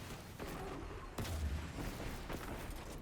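A heavy weapon fires in Destiny 2 during a solo run of a Master lost sector, with a deep booming blast that hits about a second in and rumbles on under steady game noise.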